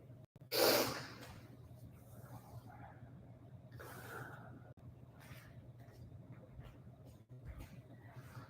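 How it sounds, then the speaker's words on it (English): Slow, deep breathing during a restorative yoga session with props, one strong breath near the start followed by quieter exhales over a low steady room hum. "Breathing deeply."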